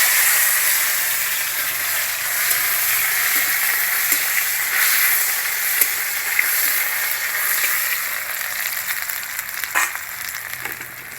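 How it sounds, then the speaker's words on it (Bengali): Rice frying in mustard oil in a pan in a village kitchen, a continuous bright sizzle with occasional sharper pops and crackles, close and steady throughout. "চালটাটা সুন্দর করে ভেজে নেব।"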